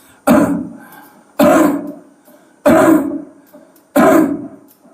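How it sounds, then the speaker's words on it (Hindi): Four forceful, evenly spaced coughs demonstrating kapalbhati breathing, each a loud sharp burst followed by a short pause, close to the listener. "देखो जैसे खांसते हैं हम,"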